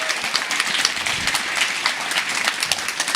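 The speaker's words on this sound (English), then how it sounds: "A round of applause for Chrystia" An audience applauds Chrystia Freeland at the Her Power 2025 event: dense, steady clapping that fills the room at an even level throughout, with no voices standing out.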